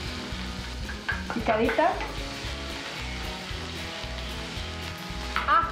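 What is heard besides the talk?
onion frying in olive oil in a hot pan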